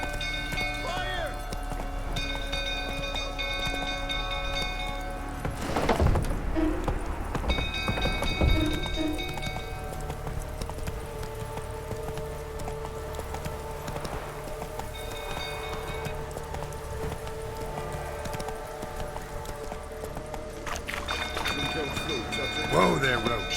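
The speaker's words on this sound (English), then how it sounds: "Whoa there, Roach." Hoofbeats of a horse galloping in The Witcher 3 video game, a steady run mixed with game music, shouting voices and occasional louder crashes.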